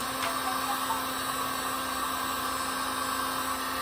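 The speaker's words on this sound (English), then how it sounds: "I'm trying to heat this from a distance just to get it warm." A heat gun blows steadily from a short distance onto a reflector on a 2020 Road Glide motorcycle, giving a continuous, even whoosh with a faint hum, close and unbroken.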